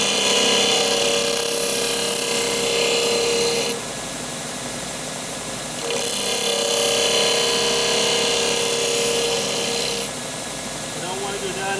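Belt sander grinding a hand-forged screwdriver, a steady loud abrasive whine that swells and eases in passes as the metal is pressed on and lifted off.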